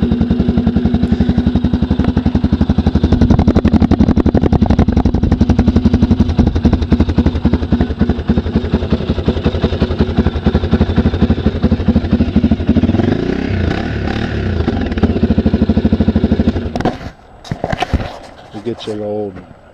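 A 2003 Honda TRX400 ATV engine on its stock exhaust runs loud and steady, idling with a rough throb and some revving, then cuts out near the end.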